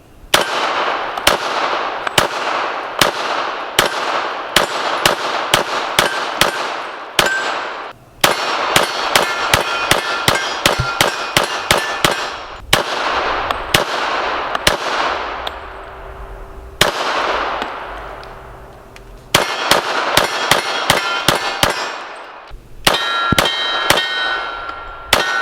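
Pistol rounds from a Smith & Wesson 4006 fired at a range strike steel targets, loud sharp shots each followed by a ringing metallic clang, in rapid strings separated by brief pauses.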